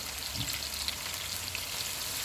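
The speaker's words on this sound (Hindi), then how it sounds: "इनको 1 मिनट तक भूनेंगे।" Turmeric, red chilli powder, coriander powder, crushed black pepper, crushed red chilli and tamarind fry in a pan for a potato pulao, giving a steady, even hiss with a few tiny crackles.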